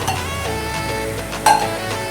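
Chopped tomato is added to a pan of turnip curry with a brief sizzle and a clink of a utensil against the pan, over a steady background hum.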